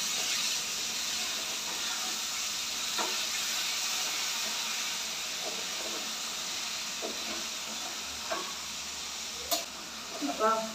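Tomatoes cook down in a pan for anda bhurji, giving a soft, steady sizzle and hiss. A few light stirring knocks and clinks come near the end.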